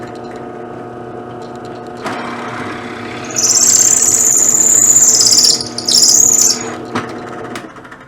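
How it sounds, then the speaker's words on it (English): Power drill boring the scroll hole into a wooden mezuzah, a steady high whine rising at about three seconds over a constant machine hum, dipping briefly, then stopping near seven seconds; close and loud, no talk. "we're going to drill the hole that'll hold the scroll"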